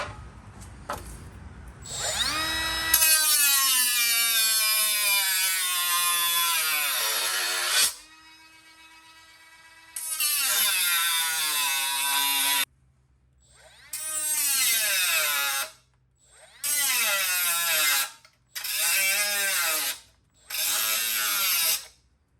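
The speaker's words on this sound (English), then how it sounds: "I just bought this real nice little Milwaukee cutoff wheel, and I'm using this big ass thick wheel for it" A Milwaukee cutoff tool fitted with a thick cutting wheel whines loudly through a long cut, then several shorter bursts, each spinning up and winding down with brief pauses between, during a Mustang inline hydraulic handbrake install; no talking.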